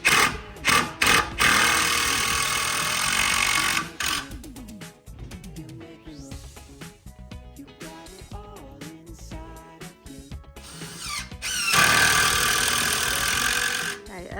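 A power driver drives screws as a 54-inch wooden leg is fixed to the top piece of a DIY boho headboard, with loud buzzing bursts at the start and end and quieter handling and knocking in between.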